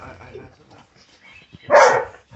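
A single sharp Rottweiler bark rings out close by after some quiet murmuring.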